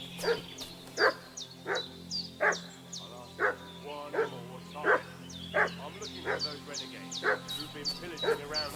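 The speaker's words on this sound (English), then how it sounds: "What's that dog making such a fuss about?" A dog in the medieval video game Kingdom Come Deliverance 2 barks repeatedly in a steady, evenly spaced series of sharp barks at moderate distance, over a low ambient hum.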